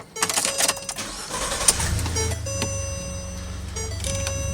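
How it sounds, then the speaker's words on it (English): A 2017 Ford Expedition cranks and fires up, with clicks and chimes before a brief starter whir and then a steady low idle hum settling in. "We're just going to start it up like normal and get the air conditioning going"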